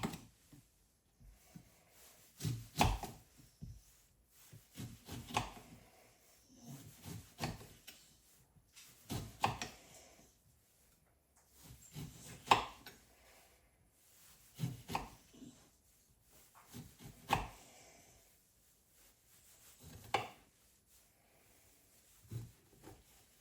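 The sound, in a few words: chopping ingredients for a cold and flu juice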